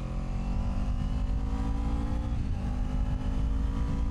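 Kawasaki Ninja 250 ABS motorcycle riding at night, a steady droning engine with rumbling wind noise, heard close from the rider's position, no talk.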